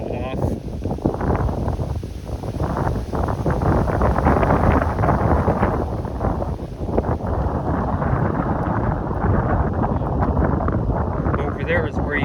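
Strong wind buffets the microphone outdoors on the Toronto Islands along Lakeshore Avenue near Hanlan's Point, a loud continuous low rumble and roar with gusts swelling and easing throughout.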